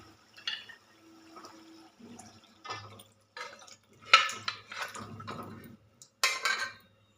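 Boiled mutton and its water poured into a curry pan of cooked onion and tomato: intermittent close splashes, drips and pan clatter in short bursts, with no talking.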